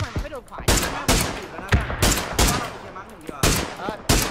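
Gunfire from the battle royale video game PUBG comes in loud, rapid bursts and single cracks, dense and close, with excited shouting between shots.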